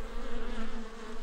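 Honeybees buzz steadily at a hive in a forest setting, a continuous close, droning hum with no voices.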